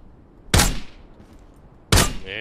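An SVD rifle fires two loud, sharp single gunshots in the tactical shooter game Lost Light, the shots spaced well apart and each followed by a short decay, with quiet game ambience between them.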